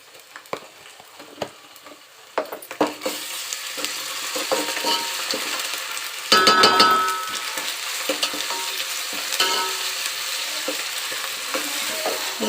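Ginger garlic paste fries with onions in a hot pan, giving a loud, steady sizzle with stirring scrapes; the sizzle flares louder partway through, and no one talks.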